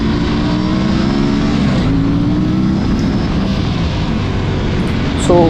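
A motorcycle engine loud and close during a wheelie attempt on a morning ride, droning steadily with a tonal whine that swells around two seconds and revs up sharply at the very end.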